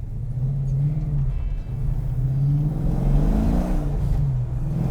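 A 1971 Plymouth Cuda's 485-horsepower V8 engine rumbles and revs steadily, a deep throaty drone that swells and eases, close and loud with no voices.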